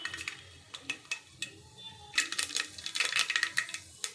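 Mustard seeds go into hot oil in a pan for pulao. Scattered sharp clicks build into a dense burst of crackling and popping partway through.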